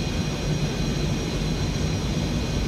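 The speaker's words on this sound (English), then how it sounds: "So the jet can do a fair distance takeoff." A jet accelerates for takeoff in a flight simulator game, heard as a constant roaring engine drone with a thin high whine over it, steady and even in loudness, with no talking.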